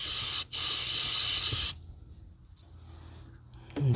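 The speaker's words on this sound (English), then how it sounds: "we'll probably spray some penetrating oil on the bracket" A loud hissing aerosol spray of penetrating oil onto a bracket on a 2011 Kia Forte, two close bursts with a short break between, then stops, leaving quiet room noise.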